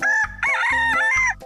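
A cartoon rooster crows loudly in a strong, clear cock-a-doodle-doo with three rising and falling syllables, filling the short moment on its own.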